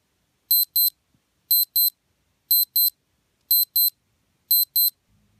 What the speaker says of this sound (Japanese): なんとアラームが鳴らせます